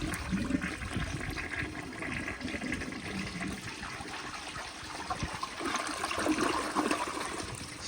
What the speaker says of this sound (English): Doing a double flush.